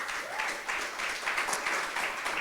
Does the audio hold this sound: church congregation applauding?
yes